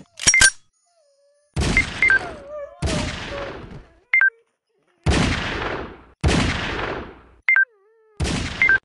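Gunfire from the mobile shooter Circus Master Revenge, loud bursts of rapid shots in several volleys separated by short pauses, with brief electronic game chimes and a voice between bursts.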